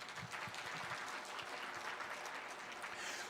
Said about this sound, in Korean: 그렇게 살고 간 모세 위에서 박수 박수 박수.